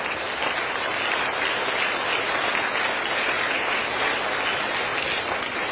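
Audience applause during a speech, a dense, steady roar of many hands clapping that holds at full level throughout.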